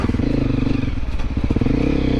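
A Honda CRF250L Rally motorcycle rides off-road, its engine a loud, close, steady droning rumble with rattles and clatter from the rough ground.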